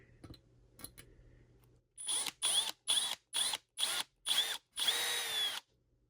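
A small power drill with a 0.055 bit whirs in six short bursts, the last one held longer, a close, high-pitched buzz with brief pauses between pulses.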